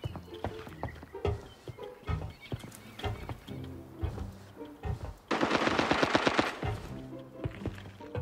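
A suppressed machine gun in a video game, on a military port map, fires short muffled bursts and then a longer sustained stretch of rapid fire amid other clattering game sounds.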